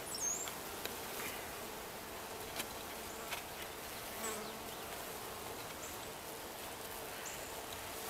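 Honey bees from a package being hived swarm around a queen cage, giving a dense continuous buzz, close and steady, with occasional louder passes by individual bees.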